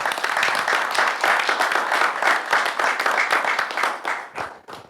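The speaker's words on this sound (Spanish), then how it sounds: "le damos un aplauso, compañeros." Steady, dense audience clapping during a formal ordinary council session, loud and full for several seconds before tapering off and fading out at the end.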